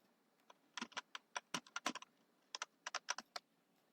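Fingers typing a new password on a computer keyboard, a quiet close run of quick clicky keystrokes in two bursts separated by a short pause.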